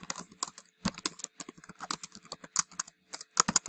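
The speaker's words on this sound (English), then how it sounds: "you can type in a question" Rapid keystrokes on a computer keyboard as a question gets typed, crisp close clicks in uneven bursts with brief pauses, no voices.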